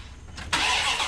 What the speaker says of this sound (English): And finally, the engine starting up without a squeal.